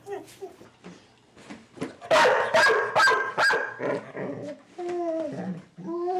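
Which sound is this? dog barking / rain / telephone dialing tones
dog barking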